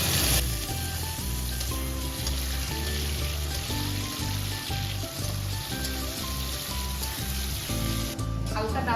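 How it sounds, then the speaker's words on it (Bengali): Tomatoes go into potatoes already frying in oil with cumin and bay leaf for chana paneer masala, giving a steady, loud sizzle that runs unbroken throughout with a tonal musical background underneath. "ভাজা হয়েছে, এবার টমেটোটা দিয়ে দেবো।"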